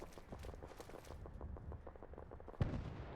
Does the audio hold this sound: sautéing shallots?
no